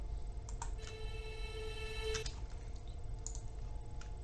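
Clock-like ticks click sparsely and evenly in a future bass track's transition, sitting over a dense low rumble with a brief bright tonal sweep in the middle.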